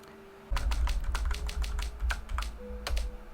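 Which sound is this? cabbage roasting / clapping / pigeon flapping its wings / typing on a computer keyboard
typing on a computer keyboard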